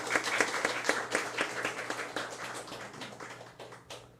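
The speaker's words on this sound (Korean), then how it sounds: "우리 장로님께 정말 빨리 회복되시라고 격려와 우리 축복의 박수 하겠습니다." A church congregation claps in encouragement during a Sunday worship service, a scattered, moderately loud round of applause that fades gradually toward the end.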